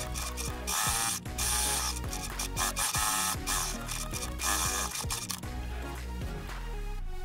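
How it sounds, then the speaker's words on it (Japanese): A sewing machine runs a topstitch around the edge of a fabric mask case, producing a dense mechanical rattling run of rapid needle strokes, loud and close, with no one talking. "ステッチをかけていって返し口のところを閉じます"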